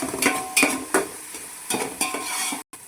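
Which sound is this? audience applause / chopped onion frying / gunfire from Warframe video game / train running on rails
chopped onion frying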